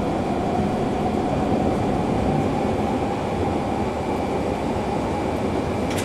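A BR 420 S-Bahn electric train running in Train Simulator 2017, with a steady loud rolling rumble and a faint high whine held continuously throughout, and no voices.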